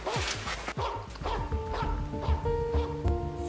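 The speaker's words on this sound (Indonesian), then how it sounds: "Kenapa anjingmu menggonggong?" A dog at a villa barks repeatedly and close, a run of sharp yips and bow-wows mixed with short whimpers, loud and alone without talk.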